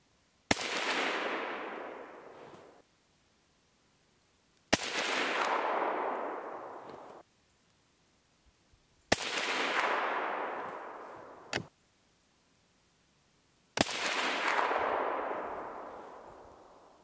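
6.5 Creedmoor rifle fired at a shooting range, four sharp loud shots spaced a few seconds apart, each followed by a long rolling echo that decays over about two seconds, with one faint extra crack between shots.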